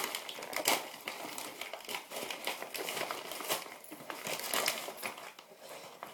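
Crinkly cosmetics packaging is torn and unwrapped up close. Dense crackling and crumpling continues throughout with sharp irregular bursts, and no one talks.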